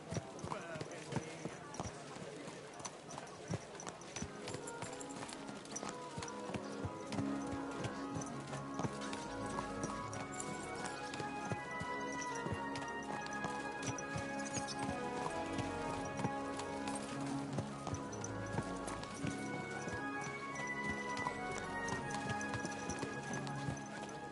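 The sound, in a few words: horse galloping, from a video game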